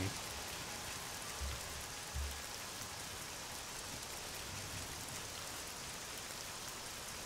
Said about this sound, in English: Very rainy.